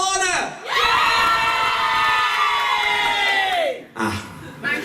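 A crowd of wedding guests cheers and screams loudly and continuously for about three seconds, the shouting swelling in and then fading, with a brief burst of voices returning at the end.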